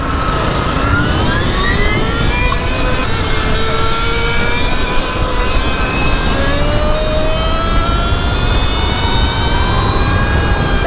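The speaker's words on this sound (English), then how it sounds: "Oh, that's a two-stroke." A two-stroke dirt bike engine, a 35-horsepower machine, revs loud and close for the whole stretch, its whining pitch rising and sliding steadily with throttle and no talk over it.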